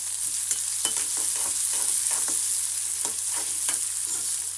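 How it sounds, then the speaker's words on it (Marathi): Onion fries in a pan with peanuts and dal, a continuous bright sizzle punctuated by repeated spoon stirring clicks and scrapes at a steady pace, close and fairly loud. "कांद्याला फ्राय होऊ द्या"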